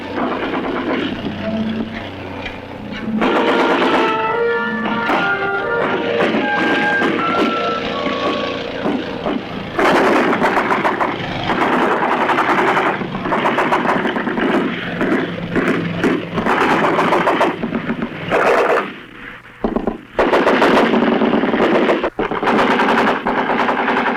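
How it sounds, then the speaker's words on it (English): Vietnam War battlefield with artillery and sustained machine-gun fire, loud, close bursts rattling almost continuously, broken by short pauses, with a droning propeller aircraft engine underneath for much of the stretch. "artillery units fire concentrations on the entire enemy position"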